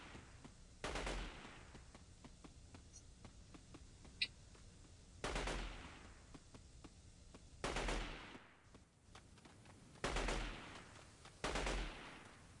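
Gunfire in the military shooter video game Delta Force 2 comes as five loud, booming bursts spaced a few seconds apart over a steady low ambient hum.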